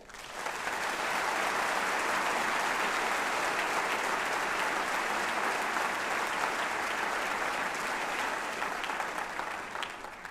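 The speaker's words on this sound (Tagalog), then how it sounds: "tingin ko para sa iyo din yung palakpak nila" Steady, dense audience applause at a religious broadcast gathering, many hands clapping together in a continuous even wash that swells up and holds for about ten seconds.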